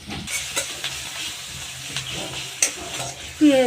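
Green chilies fry in a pan with a low, steady sizzle, punctuated by occasional stirring clinks and scrapes, close and moderately quiet.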